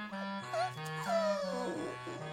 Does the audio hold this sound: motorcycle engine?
no